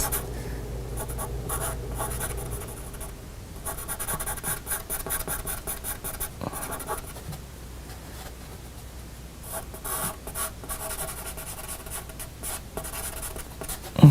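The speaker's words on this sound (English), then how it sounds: "this is a little rough because I'm trying to draw this real quick" Charcoal sketched quickly on Bristol paper, a continuous dry scratching and rubbing with steady rapid strokes close by, no voices, ending in a small sharp tap.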